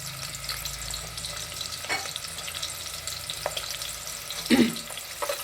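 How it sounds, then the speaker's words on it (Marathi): Onion goes into two spoons of hot oil in a pot for tempering masale bhat pulao, giving a soft, steady sizzle with a few scrapes and clanks of stirring, close up and without talk. "प्रथम आपण त्याच्यामध्ये कांदा टाकला आहे"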